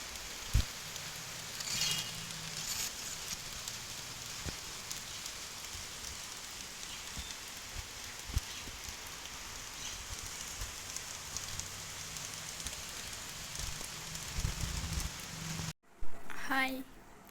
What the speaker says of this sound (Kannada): ಮಳೆ ಎಷ್ಟು ಸಂದ ಬರಾತೈತಿ ಅಂತ ತೋರಿಸ್ತೇನೆ ನೋಡ್ರಿ. ಮಳೆ ಬರಾತೈತಿ.